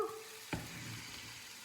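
Kuku sabzi, a Persian herb omelette, fries in oil in a pan with a soft steady sizzle, marked by a single sharp clack of a utensil near the start. The sizzle is faint and close, and no one speaks.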